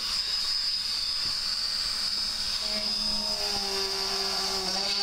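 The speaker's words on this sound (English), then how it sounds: "So let's drill these holes." A constant high-pitched whine of a Dremel rotary tool drilling holes in PVC pipe grinds steadily throughout, with slight shifts in pitch as it cuts.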